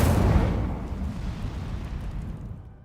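The Incendio fire spell is cast in the Hogwarts Legacy video game, a single loud whooshing burst of flame that fades out over a few seconds.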